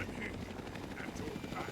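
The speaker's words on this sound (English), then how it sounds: "Oh shit, that's another helicopter." A helicopter in the video game Fallout 3 gives a steady, loud rotor drone with rhythmic thumping and hiss, constant throughout with no clear gaps.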